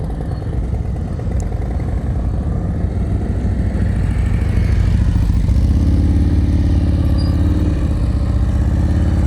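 Motorcycle engine idling and revving low during slow-speed riding practice with U-turns in a Georgia training session, a steady near drone with a rising mid-range tone toward the end, no talk.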